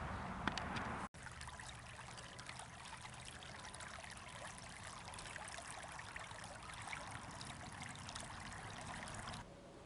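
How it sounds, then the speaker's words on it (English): Creek water flowing at moderate level, a steady broadband rush and trickle heard close and continuous after a brief bump at the start, with no talk. "Let's take a quick peek at the creek. There it is. It's flowing and not too full"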